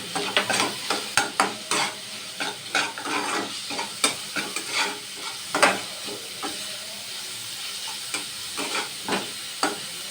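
Finely chopped onion fries in a pan for palak paneer, with a quiet bed of sizzle under repeated sharp spatula scrapes and taps at an uneven rhythm, close up and without speech.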